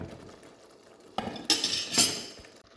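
Metal utensils scrape and clink against a pot of butter chickpeas in several bursts of stirring, close up, with quiet moments between strokes.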